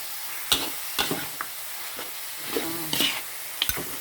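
A spoon scrapes and clinks around a pot of chicken and pumpkin coconut-milk curry several times in irregular strokes, with soft bubbling and sizzling between them.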